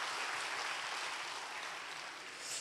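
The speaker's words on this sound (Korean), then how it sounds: "우리 다시 한번 하나님께 영광의 박수 올려드리고요" A church congregation at a Korean Wednesday worship service at Ansan Jeil Church claps together in a steady, soft wash of applause that continues throughout and swells slightly at the end.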